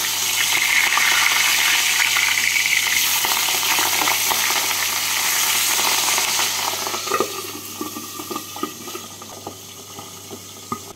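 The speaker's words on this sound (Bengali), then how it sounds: "একদিকটা ভাজা হয়ে গেছে, এবার উল্টে দিয়ে আরেক দিকটাকে লাল করে ভেজে নেব।" Pabda fish frying in a pan sizzles loudly and continuously with crackling spatters, then eases to a lighter crackle with scattered pops toward the end.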